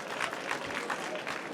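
An audience applauds at a live talk event, a soft, fairly distant patter of clapping that holds steady for a moment.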